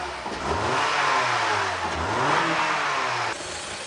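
A car engine is revved hard in a quick blast, the pitch sweeping up and settling back in a couple of surges, loud and close with no talking.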